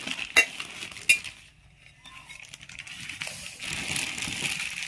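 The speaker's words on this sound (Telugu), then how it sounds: "లిడ్ ఇన్సైడ్ ఇన్సర్ట్ చేస్తాము." A lid for a Hawkins 3-litre pressure cooker clanks metallically twice in quick succession as it is fitted inside the cooker, followed by quieter shuffling and rustling handling sounds.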